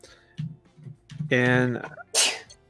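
A single sharp sneeze bursts out near the end, preceded by a voiced wind-up, with quiet talking sounds before it.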